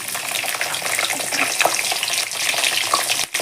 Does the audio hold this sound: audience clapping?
no